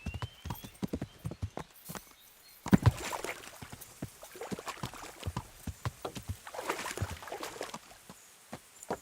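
Horse hooves clip-clop in Kingdom Come: Deliverance, a rapid, steady run of close hoofbeats with a brief louder thump partway through.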